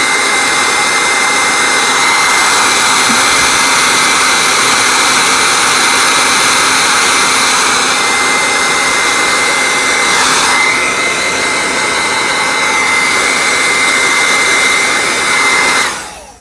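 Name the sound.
heat gun shrinking heat shrink tubing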